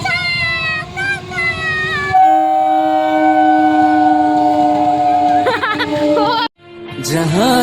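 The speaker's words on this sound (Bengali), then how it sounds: "ওইদিকে ওই যে ট্রেন আসছে" An arriving train sounds a long, loud horn that holds for several seconds, then cuts off, with rumbling rail noise and a brief stretch of music before it.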